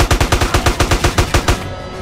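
Automatic gunfire in GTA San Andreas: about ten rapid, evenly spaced shots in one loud, close burst that stops abruptly.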